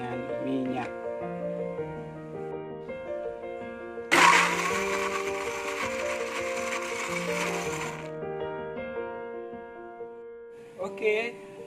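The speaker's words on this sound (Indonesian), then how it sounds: "Ini saya blender dengan minyak" A kitchen blender whirs loudly for about four seconds, blending shallots, garlic and candlenuts with oil, cutting in abruptly over background music and a voice.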